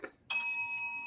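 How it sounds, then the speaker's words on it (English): A bell is struck once, a sharp bright ding that rings on with a clear sustained tone, following a brief soft sound just before. "You didn't hit the bell."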